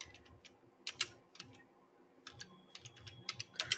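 Quick, light clicks of a computer keyboard come in short bursts with brief pauses, close and fairly quiet, as someone types a search about crude oil trading.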